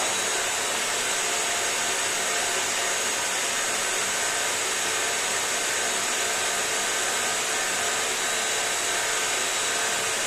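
Bissell Crosswave PetPro wet-dry vacuum cleaner running indoors, a loud, constant close-up motor whir and airflow roar with no variation throughout.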